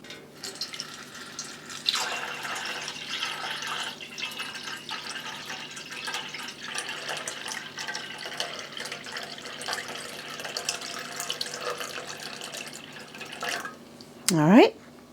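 Water runs steadily into a steam canner, a continuous splashing pour with faint drips, and a short squeaky scrape comes near the end.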